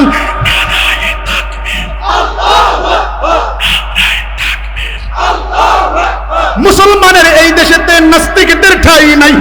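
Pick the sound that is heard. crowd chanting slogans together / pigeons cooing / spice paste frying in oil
crowd chanting slogans together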